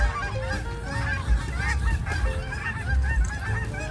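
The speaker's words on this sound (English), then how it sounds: "there go the geese." Geese honk repeatedly overhead during an outdoor morning walk, a steady chorus of overlapping calls over constant wind and ambient noise.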